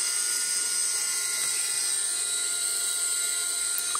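A Swiwin model turbine engine runs steadily during a life test, giving a constant high-pitched whine with a broad rushing roar, even and unbroken throughout.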